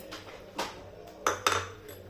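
A spoon stirs rice-milk kheer in a metal pot, making a few sharp clinks and scrapes against the sides at irregular moments over a quiet low background, close up and with no speech.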